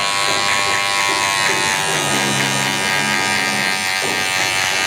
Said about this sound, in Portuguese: Agora nós vamos pegar a maquininha de acabamento